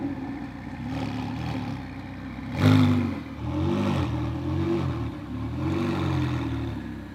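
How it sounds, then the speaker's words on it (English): A Ferrari 488 GTB supercar engine fires up with a sharp burst, then settles into a deep, throbbing idle with rhythmic swells, close and moderately loud. "we all want to hear what this car sounds like. So let's start the engine."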